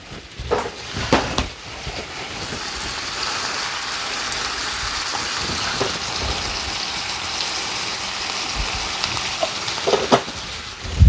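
Shrimp couscous fries in a pan with a steady broadband sizzle while cheese and lemon juice are stirred through it, with a few louder scraping clatters near the start and end and no talking.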